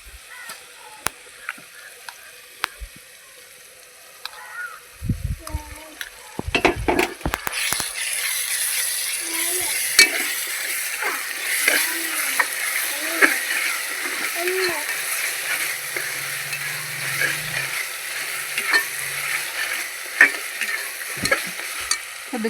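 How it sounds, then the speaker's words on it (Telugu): Ginger garlic paste sizzles and fries in a pan of already browned onions for a chicken feet curry, with steady crackling and clattering stirring throughout, fairly close and loud, with no talk. "అల్లం వెల్లుల్లి పేస్ట్ అయితే వేసుకుందాం."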